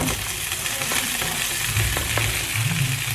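Cabbage and broccoli fry in a pan with a steady, close crackling sizzle and occasional stirring scrapes, continuous throughout with no talking.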